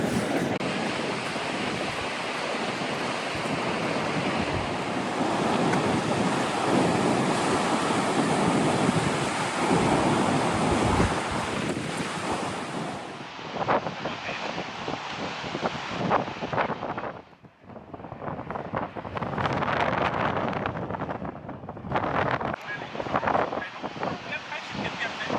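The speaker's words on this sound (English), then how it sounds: "now that the wind has made me chilled" Strong wind roars continuously across a microphone on the Great Ocean Road clifftops in Victoria, with pounding ocean surf below, loud and buffeting, easing briefly in gusts before surging again.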